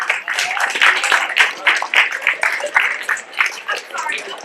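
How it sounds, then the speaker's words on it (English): Students at a school assembly clap in loose, uneven bursts while lively voices chatter and talk loudly over the clapping close by. "Come on. Clap it up."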